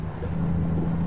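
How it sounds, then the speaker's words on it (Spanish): A truck's engine brake drones in American Truck Simulator, a loud steady low rumble with a faint high whine running through it. "Buen freno de motor, amigos."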